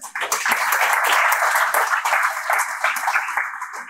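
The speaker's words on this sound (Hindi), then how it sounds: "उनके लिए हम चाहते हैं कि एक बार ताली बजा दी जाए" An audience at a college Teachers' Day celebration claps for the senior teachers, a dense, loud burst of applause that holds steady for nearly four seconds and thins slightly at the end.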